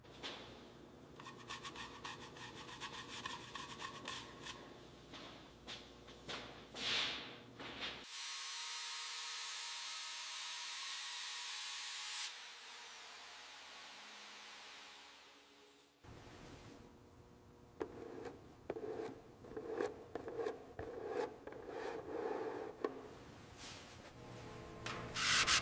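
Rust being worked off the fender of a 1918 Dodge Brothers touring car with rhythmic, close abrasive rubbing strokes. A long, steady hiss runs through the middle before the scraping resumes. No speech.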